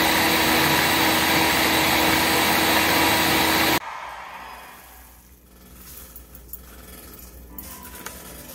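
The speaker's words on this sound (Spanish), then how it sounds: "le voy a moler el chile guajillo con la mitad de la vasijita de orégano" Blender grinding guajillo chili with oregano for pozole, a loud steady motor whir for about four seconds that then cuts off abruptly, leaving faint kitchen sounds and small clicks.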